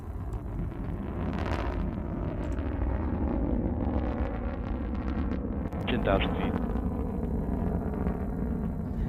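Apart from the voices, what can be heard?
Blue Origin New Shepard rocket BE-3 engine burn during launch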